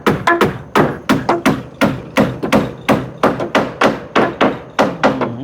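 Rapid, loud hammering of nails into wooden floor boards in a house extension, a fast, steady run of close, ringing blows with short gaps and no speech.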